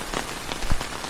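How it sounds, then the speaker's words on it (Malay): Light drizzle falling at night on a riverside camp with a flysheet, a soft continuous patter of scattered drops close by. "Malam ni hujan renyai."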